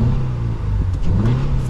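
A 2022 Toyota GR86 four-cylinder engine revs up with a steady mid-pitched hum, rising in pitch as it accelerates, close and fairly loud.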